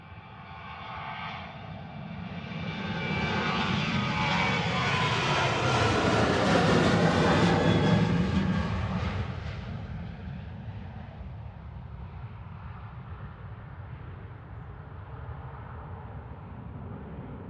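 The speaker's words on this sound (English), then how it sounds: "Departing now on 23 left is Ryanair to Ibiza." A 15-year-old Ryanair Boeing 737-800 departs runway 23 left at Manchester Airport, its jet roar swelling to a loud, broad peak mid-clip and then easing into a steady, fading rumble with no voices.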